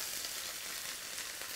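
Steady, dense sizzle of beef pieces frying in clean oil in a pan for beef stroganoff, continuous and even, close up with no talking.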